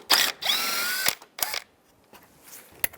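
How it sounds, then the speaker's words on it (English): A power tool with a 10mm socket backs out a bolt on a 2010-2017 Chevrolet Equinox during fog light wiring work, giving two or three short, close whirring bursts with sharp clicks between them. "Use a 10mm socket, take that bolt out."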